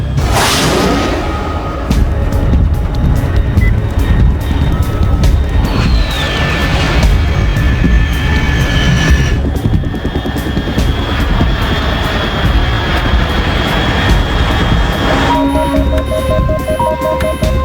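A jet aircraft drones loudly and steadily overhead in the Metal Gear Solid 3 video game, a continuous engine roar with passing whooshes and no talking.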